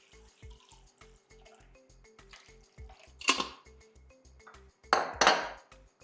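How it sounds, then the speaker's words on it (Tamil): Water pours into a pot of rasam with tamarind and tomato, splashing in two louder bursts amid quieter trickles and a steady background hum. "இந்த ரசத்துக்கு தேவையான தண்ணியை ஊற்றிக்கோங்க"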